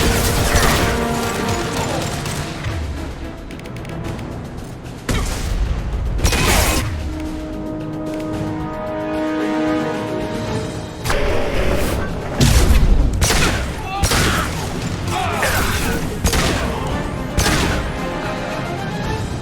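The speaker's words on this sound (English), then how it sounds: "Blue Suns and Vorcha shooting anything that moves." Sci-fi firefight from Mass Effect 2, with Blue Suns mercenaries and Vorcha hostiles shooting. Loud, dense volleys and sharp bangs come in repeated bursts across the scene, mixed with booming impacts and game sound effects.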